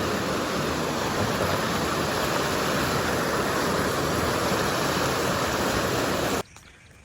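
Fast, dangerously high river water in Chitwan roars continuously and loudly nearby, an unbroken wash of turbulent flow that cuts off abruptly near the end into near silence.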